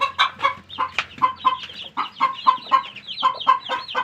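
A chicken clucks close by in a rapid, steady series of short, throaty calls, with no talking.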